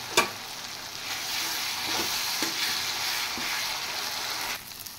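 Chopped tomatoes tipped into frying spice paste, a sharp clatter followed by a steady close sizzle with a few stirring knocks, ending abruptly, no talking.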